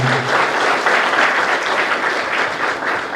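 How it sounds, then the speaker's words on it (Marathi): Loud, dense crowd applause at a political rally, steady close clapping sustained throughout with no speech over it. "आपण जोरदार टाळ्या"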